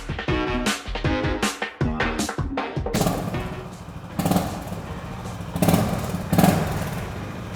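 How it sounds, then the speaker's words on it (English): A Honda H'Ness CB350 single-cylinder motorcycle engine thumps in quick, uneven pulses, then settles into a deeper, rougher running rhythm with a few revs, close by. "did you even imagine an Honda motorcycle in India to sound like that with a Thump?"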